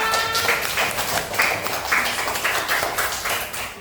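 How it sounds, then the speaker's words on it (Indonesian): Students in a classroom clap for the group presentations by their classmates, an uneven, moderately loud patter of hands with bursts rising and falling throughout. "Coba beri tepuk tangan untuk mereka semua."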